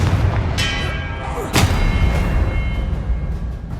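A Confringo fire-blast spell from Hogwarts Legacy goes off as a single booming explosion with a sharp onset, set against a dense bed of game ambience and ringing tones.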